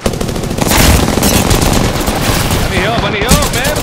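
Rapid automatic gunfire crackles loudly and continuously through a video game firefight, bursts overlapping at close range, with shouted voices breaking in near the end.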